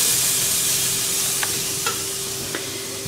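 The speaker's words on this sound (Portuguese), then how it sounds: "Aqui eu já coloquei minha panela de pressão pra aquecer. Ó, vou colocar uma quantidade aqui de alho." Garlic fries in a preheated pressure cooker with a close, steady sizzle, broken by a few light scraping clicks from stirring.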